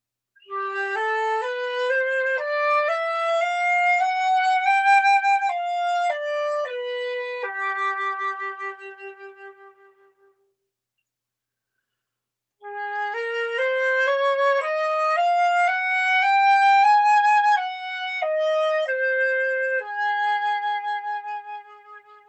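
Solo flute plays a dominant seventh warm-up exercise starting on G, a smooth stepwise run climbing and falling back, then a pause and a second pass in another key, clear and close with no talking.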